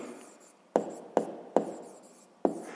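Pen strokes scratch across paper while a maths solution is written out, four or five sharp, distinct scrapes, each fading quickly, spaced irregularly in a quiet room with no voices.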